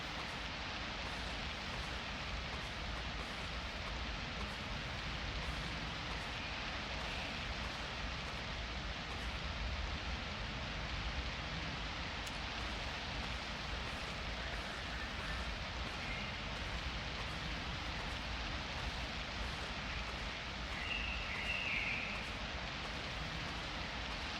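Steady, dense rainfall in the video game 35MM, an even hiss of drops on surfaces that continues unbroken throughout with no voices.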